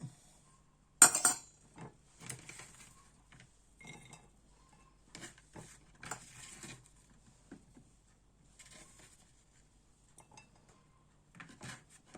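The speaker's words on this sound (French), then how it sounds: "On va essayer de bien le mélanger." Peppers for a three-pepper pickle being stirred in a glass container, giving intermittent clinks and scraping knocks of a utensil against glass, fairly quiet with pauses between bursts.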